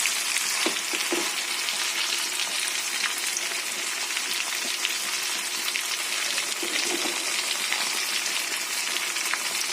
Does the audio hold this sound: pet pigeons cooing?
no